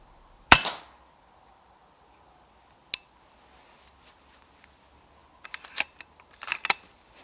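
A single sharp rifle shot rings out at night during rat shooting with night vision gear, followed by a quiet pause, one faint click, and then a scatter of small clicks and handling noises near the end.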